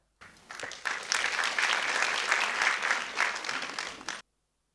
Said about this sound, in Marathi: त्या सर्वांसाठी पुन्हा एकदा जोरदार टाळ्या